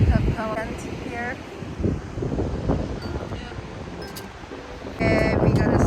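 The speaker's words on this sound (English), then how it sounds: "It's a little windy today." Wind blows across Breakers Beach in San Diego, buffeting the microphone with a steady low rumble while people talk nearby.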